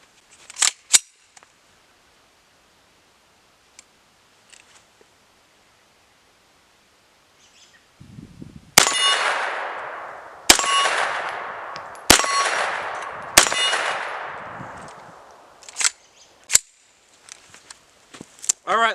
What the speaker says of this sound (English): Up next is 4 rounds of 9mm out of my Mike 9